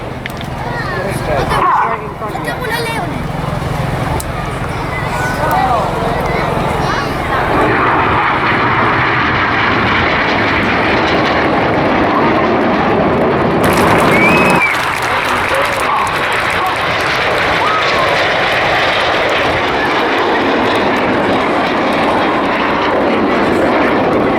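Red Arrows display jets perform rolls at the 2015 Bournemouth Airshow, a loud continuous roar of aircraft engines rising and surging overhead, with crowd applause and a commentator talking over it.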